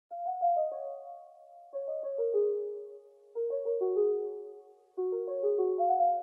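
Sine-wave synth pad pattern played forward, four phrases of smooth pure tones that start sharply and fade away, stepping through a short melodic sequence with no other sounds.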